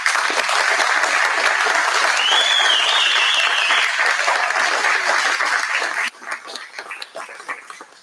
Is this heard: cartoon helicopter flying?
no